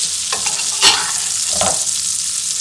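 Steak frying in a pan with garlic, thyme and oil being basted over it, a loud close sizzle with a few clinking stir and spoon strokes.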